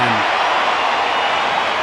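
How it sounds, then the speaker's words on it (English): Loud sustained cheer from a capacity crowd at the Wanderers stadium during an India versus South Africa cricket match, a dense roar of many voices held throughout. "Loud cheer again from the capacity crowd of the Wanderers."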